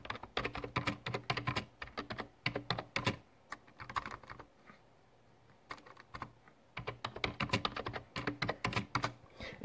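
Typing a WhatsApp message on a computer keyboard: bursts of quick, close key clicks with a pause in the middle before the tapping resumes, no voices.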